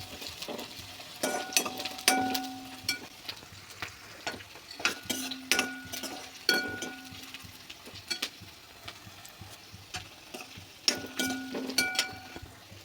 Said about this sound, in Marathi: कांदा टाकायचा, कांदा थोडा लालसर होईपर्यंत परतायचा.